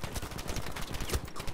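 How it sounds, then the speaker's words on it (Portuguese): Rapid gunfire from the video game Battlefield V, dense and continuous bursts of shots crackling without pause over a busy battle din. "Ai, que tiro!"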